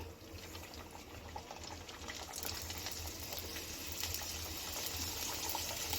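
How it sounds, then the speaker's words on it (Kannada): Puris for pani puri frying in hot oil while oil is spooned over them, a continuous bubbling sizzle that slowly grows louder, close by with no talking. "ನೋಡಿ, ಪೂರಿ ಮೇಲೆ ಹೀಗೆ ಬಿಸಿ ಎಣ್ಣೆನ ಹಾಕಿದ್ರೆ ಚೆನ್ನಾಗಿ ಅರಳ್ಕೊಡುತ್ತೆ"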